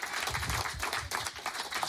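A studio audience at a French radio show applauds loudly and steadily, a dense, continuous wash of clapping with faint voices underneath.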